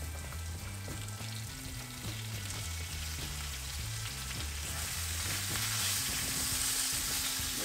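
Spinach sizzling in hot olive oil in a pan, a steady close frying hiss with faint stirring movements throughout.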